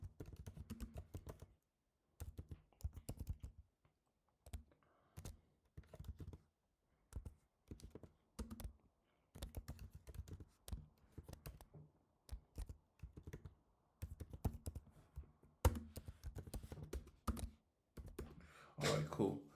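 Someone types code on a computer keyboard in bursts of quick clicky keystrokes with short gaps, close to the mic, while a person speaks now and then over the typing.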